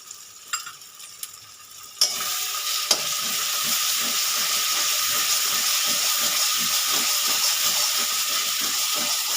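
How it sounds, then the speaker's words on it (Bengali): Ground spice paste hitting a hot pan for a pointed gourd and prawn curry: a few faint clicks, then a sudden loud, steady sizzle and hiss with soft rhythmic stirring scrapes running throughout. "যে মশলাটা বেটে রেখেছিলাম সেই মশলাটা দিয়ে দিলাম"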